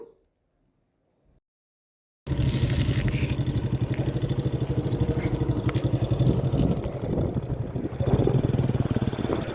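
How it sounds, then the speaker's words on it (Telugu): After a brief near-silence, a motorcycle engine starts up and runs loud and steady with a rattling, throbbing hum on a ride out to a farm. "సో, మేమైతే బైక్ మీద వెళ్తున్నాము."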